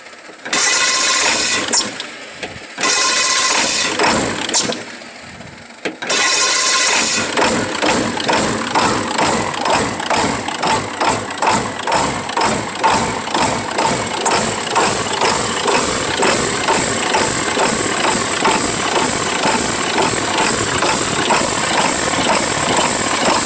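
A 1996 Ford F-350 XLT with a 7.3L Powerstroke diesel that stalls and surges, heard first in a few cranking bursts, then running with a loud, rough, rhythmic clatter that pulses and surges unevenly.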